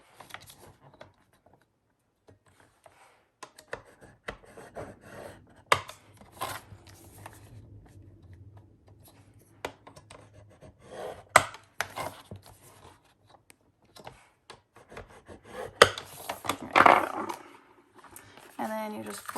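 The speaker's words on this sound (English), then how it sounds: "and then we'll score the other one" Paper being scored and creased for a handmade sunflower folio, with intermittent scraping strokes and rustling handling noises while a person talks over the work.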